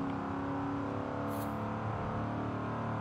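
A Ford Crown Victoria police car's engine hums steadily with a low, continuous drone throughout, sounding like sustained acceleration from inside the car; a brief hiss rises midway.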